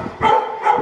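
A pit bull barks twice while playing with a bite toy, two short, fairly close barks about half a second apart with no talk over them.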